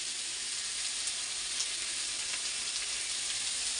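Carrot, potato and spring onion fry in a pan for a morning tiffin, giving a steady, even sizzle that hisses close by without pause.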